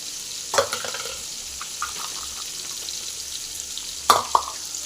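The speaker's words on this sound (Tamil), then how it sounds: "பூண்டி போட்டு அப்படியே நல்லா ஃப்ரை பண்ணிடலாம்" Onion and garlic fry in hot oil for a pirandai chutney, a soft steady sizzle with a couple of sharp stirring clatters of a utensil against the pan, close by and with no talking.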